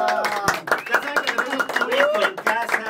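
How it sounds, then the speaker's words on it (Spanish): Canned applause and claps from a talk show's sound effects patter densely and continuously, with voices talking over them. "aplausos grabados"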